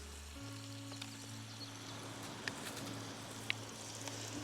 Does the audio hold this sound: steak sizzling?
yes